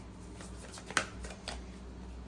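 Tarot cards are handled and drawn from a deck in a short, close burst of papery shuffling and flicking, including one crisp snap. No one speaks.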